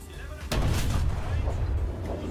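Tank cannon fire in a video game, one heavy boom near the start followed by a sustained rumbling roar of battle, loud and close, like fireworks going off.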